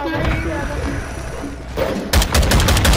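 Rapid gunfire crackles from Call of Duty Modern Warfare 2 game audio: loud, dense shots and mechanical clatter, with a sharp burst of repeated reports in the last second, over a busy backdrop where a voice speaks briefly.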